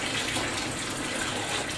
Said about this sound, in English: can you hear me over the water?